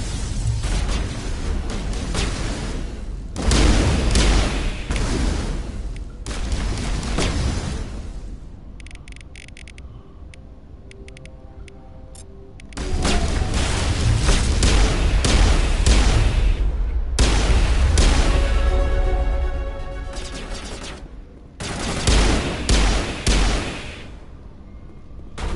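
Gunfire in Mass Effect Legendary Edition: loud, dense bursts of booming weapon fire and impacts in two long stretches, broken by a quieter gap and a short final burst, with no talk.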